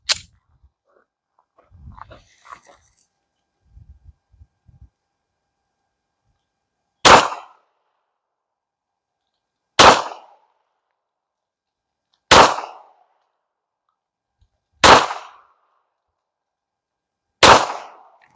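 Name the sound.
pistol shots, Hornady Critical Defense ammo at 10 yards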